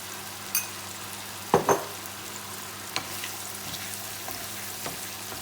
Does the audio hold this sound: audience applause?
no